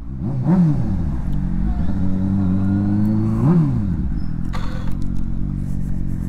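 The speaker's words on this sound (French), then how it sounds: "On a une petite moto qui est en train de nous doubler" A small motorcycle overtakes on a city street, its engine droning steadily and rising and falling in pitch as it passes close by, loud and continuous, with a brief clatter near the end.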